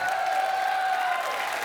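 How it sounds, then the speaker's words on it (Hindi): A crowd claps in a dense, steady burst of applause, loud and continuous throughout. "वाह, जोरदार तालियों से स्वागत कीजिए"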